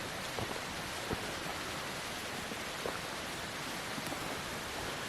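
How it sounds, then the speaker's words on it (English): Water running out of an old mine in the Tamar valley makes a steady, faint broadband rush like light rain, continuous and even throughout with no voices. "You can hear the running water coming from it."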